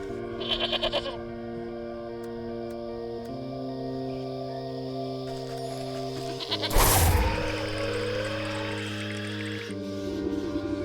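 A skittish sheep bleats in the video game Wytchwood, sounding over sustained tonal game music, with a short sharp burst midway and several wavering bleat-like cries.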